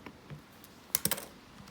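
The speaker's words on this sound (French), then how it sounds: "On va rentrer les valeurs au clavier." Keys on a NumWorks graphing calculator keypad being pressed to enter values, heard as a quick cluster of sharp plastic clicks, close and alone without talk.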